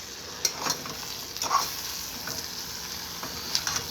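Rice fries over very low heat in a pan, giving a soft continuous sizzle, while a utensil stirs it with a few scraping clicks and taps.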